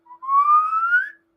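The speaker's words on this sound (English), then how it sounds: "it's the slide whistle during the stunt jump" A slide whistle sounds during a film stunt jump, a single clear rising glide lasting about a second after a brief opening note.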